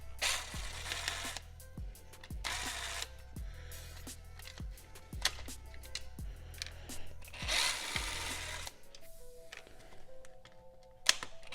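Power tool whirring in short repeated bursts while backing out three T20 Torx screws from the window regulator motor on a BMW E90 rear door, close and fairly loud, with a quieter clicking stretch near the end.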